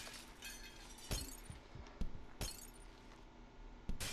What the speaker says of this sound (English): Backflip into a smash glass breaker.